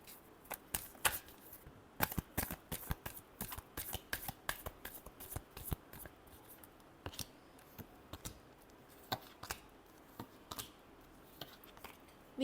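Tarot cards being shuffled, a quiet, steady run of crisp snapping riffles and clicks repeating in close bursts, heard alone and close up.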